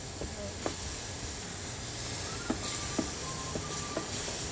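Ginger and garlic sizzle in a very hot wok with a continuous steamy hiss, broken by a few sharp clicks and utensil taps close by.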